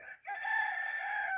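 Close by on a rural farm at morning, a rooster lets out a sustained crow that rings steadily after a short gap, loud and alone with no voices over it.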